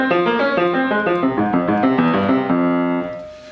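A piano plays Beethoven left-hand triplets, detached rather than legato with phrasing, a steady run of repeated low chordal notes that fades at the end, played alone with no talk.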